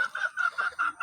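Chickens in a backyard garden among bitter gourd plants give a quick run of rhythmic clucks, about five short pulses in one second, close by and with no talking.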